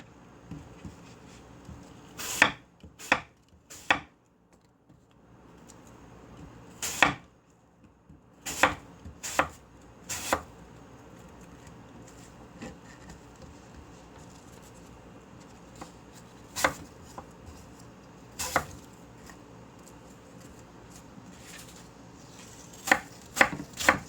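A knife cuts apple into thin matchstick strips on a cutting board, giving sharp, separate chops spaced irregularly, sometimes in quick pairs or bursts, with quiet pauses in between and no talk.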